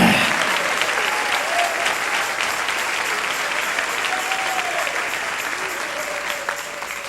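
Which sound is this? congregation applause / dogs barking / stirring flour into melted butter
congregation applause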